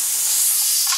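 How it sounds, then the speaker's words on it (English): Steam hisses steadily and loudly from a pressure canner processing deer meat, a continuous close bright rush with no pause. "You can hear the bubbling going there."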